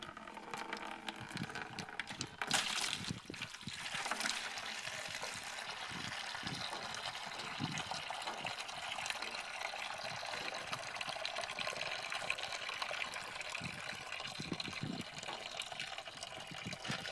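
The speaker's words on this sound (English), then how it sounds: "Filled my hose full of water." Water runs steadily into a hose during a PVC plumbing job, a continuous faint gushing and trickling that lasts throughout. A few brief handling knocks break in near the start.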